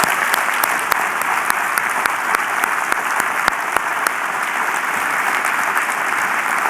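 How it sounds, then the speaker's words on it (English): Sustained audience applause at a 2015 scholars program awards dinner, steady dense clapping from a large crowd throughout, loud and continuous without talk. "let's give these slackers one more round of applause"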